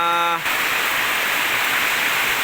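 Heavy rain pouring down outdoors, a loud continuous hiss that takes over after a brief tonal sound at the start and holds steady throughout.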